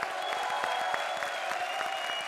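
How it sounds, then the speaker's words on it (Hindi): A studio audience on a television comedy show claps in a steady, moderately faint wash of applause lasting a couple of seconds, with a faint tonal hum beneath. "जोरदार तालियां एक बार फिर हमारी सारी जोड़ियों के लिए।"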